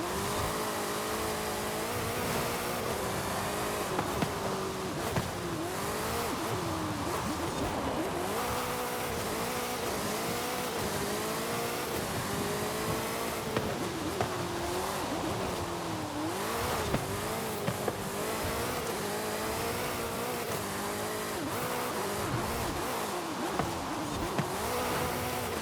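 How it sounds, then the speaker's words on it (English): Racing cars roar through a Forza Horizon race in Mexico, with a loud, continuous engine drone rising and falling as gears shift, plus occasional tire squeal, without pause throughout. "Alright, so the Von Gittin car is right behind me."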